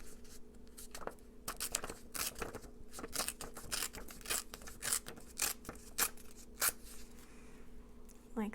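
Leftover paper being torn by hand for a Christmas junk journal, a series of quick crisp rips and rustles, faint and close with a soft voice in the background.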